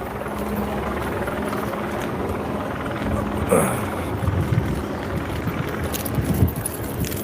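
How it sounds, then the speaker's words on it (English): Steady broadband rotor drone of two helicopters hovering over a hospital scene, continuous and moderately loud, with a brief louder swell midway and scattered background noise. "There's 1 helicopter there. 2 helicopters there. Helicopters on the scene."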